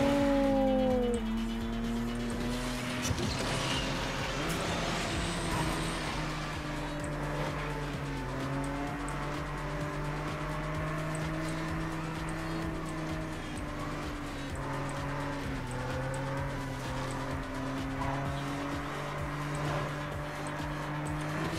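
Fast cars race in the Asphalt Legends game, engines droning and shifting pitch continuously, with tire squeals and skids early on, loud and steady with no voices.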